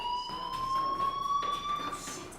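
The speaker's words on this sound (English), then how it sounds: "Hey, do you hear that fire alarm?" Fire alarm in the video game Life Is Strange, a steady electronic tone sounding continuously with faint pulsing, fairly quiet and distant as if heard from down a hallway.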